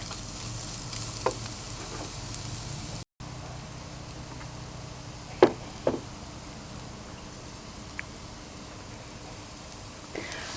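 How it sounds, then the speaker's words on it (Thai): Shallots stir-frying in a pan over low heat, a low, steady sizzle with occasional spatula knocks and scrapes, one brief dropout partway through. "เราผัดนะคะ จนกระทั่งหอมของเราเขาสุก"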